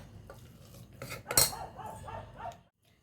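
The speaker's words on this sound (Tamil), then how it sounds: "குழி கரண்டியை வச்சு நல்லா கிண்டி விட்டுக்கலாம்" A ladle stirs thick cooked black rice sweet pongal in a pot, making soft scraping and clinking against the metal, with one louder clank midway before the sound stops abruptly.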